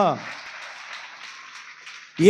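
A church congregation at a Christmas worship service claps together in a steady, dense patter of many hands, with a voice speaking briefly at the start and end.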